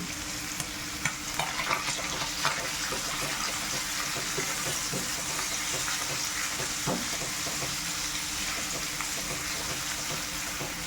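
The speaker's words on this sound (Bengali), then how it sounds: "চিকেনটাকে আমি একটু ভালো করে কষিয়ে নিচ্ছি।" Chicken sautés in a hot pan with a continuous crackling sizzle and repeated scraping strokes of a spoon stirring it, close and steady with no talking.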